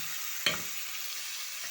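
Onions sautéing in a pan for a chicken and vegetable dish, a steady soft sizzle with one sharp stir or scrape of the utensil partway through, close and alone without voices.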